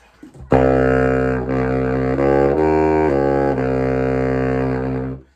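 A deep, sustained low note from a baritone saxophone, rich in harmonics, held steadily for several seconds with slight shifts in tone before fading out.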